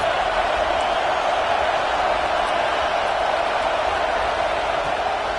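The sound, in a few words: football stadium crowd cheering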